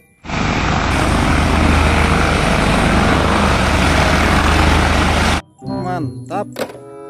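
A toy helicopter gives off a loud, steady electronic whirring roar of rotor noise that starts with a thunk and runs for several seconds, then stops abruptly and is followed by a few short synthetic sound effects.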